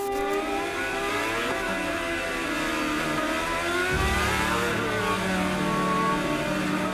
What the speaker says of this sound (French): les F1 s'engagent dans l'avenue Princesse Grace vers une double courbe à droite jusqu'au virage du Portier